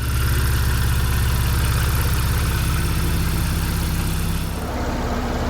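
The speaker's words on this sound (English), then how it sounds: "That is the sound of the cooling fan coming on." Porsche Cayenne engine idling loud and steady with a pulsing low rumble, and near the end a broad whoosh as two cooling fans switch on.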